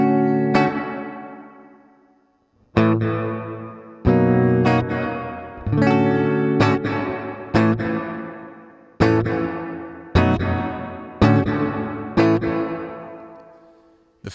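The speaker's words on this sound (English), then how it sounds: "the delay knob now adjusts my pre-delay, which sets the time between your dry signal and when you start to hear the reverb" Guitar chords ring out one after another through a Collider Delay+Reverb pedal set for reverb with pre-delay and a short decay, each strum followed by a quick, fading wash of reflections.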